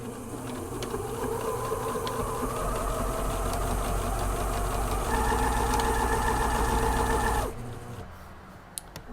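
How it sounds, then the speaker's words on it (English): A sewing machine runs in a fast, steady mechanical whir, its pitch rising briefly as it speeds up, then stops abruptly, leaving small handling clicks. "working at the sewing machine"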